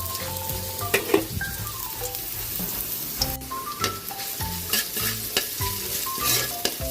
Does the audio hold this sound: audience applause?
no